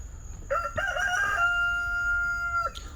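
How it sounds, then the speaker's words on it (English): A rooster crows once, clear and fairly close, its call rising and then holding a long drawn-out note over faint background noise. "There's one of our pretty roosters here."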